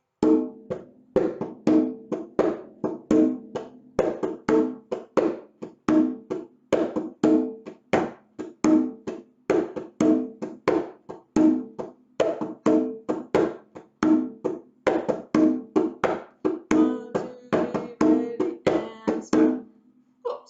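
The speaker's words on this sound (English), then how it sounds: "Let's throw it back on the drum." Hand drum played in a jongo rhythm, a steady stream of sharp, close slaps and booming open tones in a repeating syncopated pattern, loud and alone without talk for the whole stretch.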